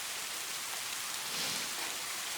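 Steady rain falls in a continuous soft hiss, an even wash of drops with no distinct patter or pauses.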